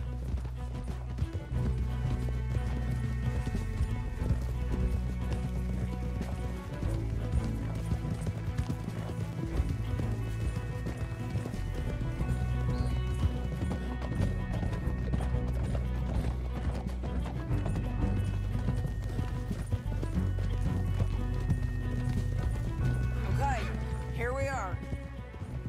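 Horses clip-clop at a gallop in a video game, a steady dense drumming of hooves with occasional whinnies, mixed under game music and voices.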